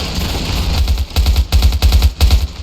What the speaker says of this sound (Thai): ปืนบาออโตเมติกไรเฟิล